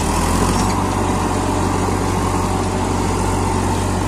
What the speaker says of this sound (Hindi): पावर ट्रैक यूरो 50 प्लस पचपन एच पी का यह ट्रैक्टर है